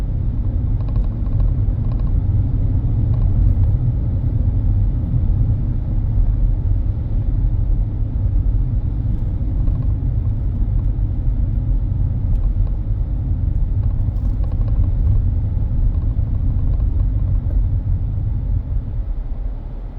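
Steady low rumble of a car driving through Bridgetown, Barbados, on Constitution Road near Queen's Park, a continuous road and engine drone with no breaks.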